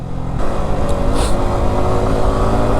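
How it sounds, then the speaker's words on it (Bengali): A vehicle engine brakes on a wet mountain road near Sungsang Para, giving a loud, steady low rumble with a continuous engine drone and road noise throughout. "Engine brake, engine brake."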